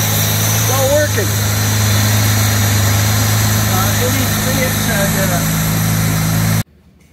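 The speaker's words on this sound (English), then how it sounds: "I'm really happy with the running condition of that engine." A 1962 Jaguar E-Type 3.8 engine idles steadily with a low, even rumble throughout, then cuts off abruptly near the end.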